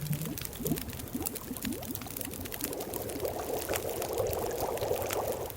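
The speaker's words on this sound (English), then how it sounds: "Let's boil this up." Water bubbling and pouring in The Long Dark, a survival game, as a pot is boiled beside a fire, with a steady close liquid burble that rises into a continuous simmer.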